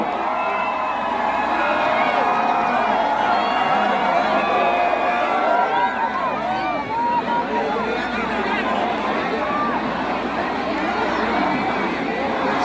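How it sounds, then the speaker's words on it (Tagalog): A large political rally crowd in Cebu shouts, whoops and cheers in a sustained loud roar, with shrill voices rising above the steady din. "Lumakas ang sigaw."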